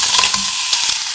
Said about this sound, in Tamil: இப்போ ஸ்ட்ராபெரி இதுலயே கொட்டிடலாம்.